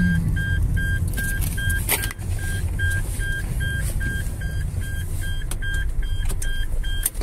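A car's seatbelt warning chime sounds as a steady run of evenly spaced, bright beeps from inside a moving car in Melaka, Malaysia, over constant road and engine rumble. No one speaks.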